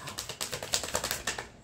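Tarot cards being shuffled by hand, a quick run of about a dozen crisp, papery riffling clicks in close succession, near and alone.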